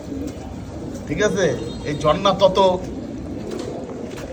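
Pigeons near a small fountain coo in a run of throaty, rolling calls close by, with a person speaking over and between them.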